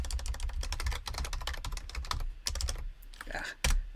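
Rapid, uneven clatter of keys on a computer keyboard, with a burst of dense typing followed by a brief pause and a few final louder keystrokes, close and alone.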